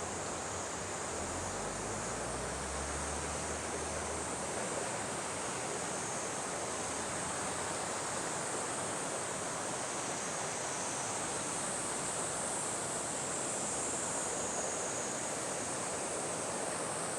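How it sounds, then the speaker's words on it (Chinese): A clear mountain river below the Horai suspension bridge rushes in a dense, loud, unbroken roar, steady for the full stretch with no voices. "下面就是河流了。"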